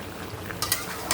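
Ginger paste cooking in a pan with duck meat: a soft steady sizzle, then a few short bright scrapes and clinks of a utensil stirring near the end, close and quiet, with no speech.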